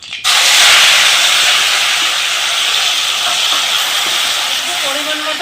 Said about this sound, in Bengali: কড়াতে আমি দিয়ে দিব সরষের তেল। গরম হয়ে গেছে, এখন আমি এই কচুর পাতাগুলো দিয়ে দিব।